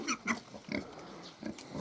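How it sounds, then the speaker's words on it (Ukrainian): A Hungarian Mangalica sow nurses her week-old piglets, giving soft, rhythmic grunts in quick repeated pulses, close by and fairly quiet. "а свиня кормила поросяток"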